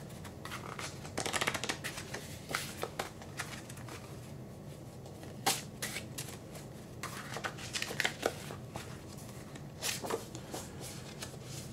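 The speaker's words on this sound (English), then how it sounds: "Let's go ahead and shuffle." Tarot cards being shuffled by hand, a soft riffling patter in repeated bursts with brief pauses between, close and fairly quiet with no talking.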